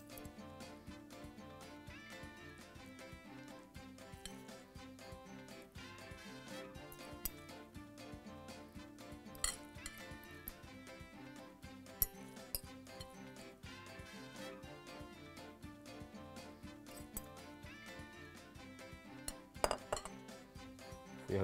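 Dishes and cutlery clink lightly and repeatedly while tuna goes onto a sandwich, a steady run of small metallic and glassy taps at low volume with no talking.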